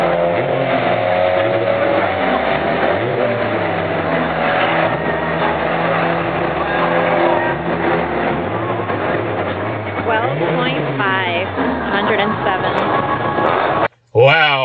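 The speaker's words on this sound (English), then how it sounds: "SVOs are off to drag race." Ford Mustang SVO cars drag race with loud, continuous engine roar and rising, falling revs through gear changes, heavily compressed and filling the whole stretch, ending in a brief cutout.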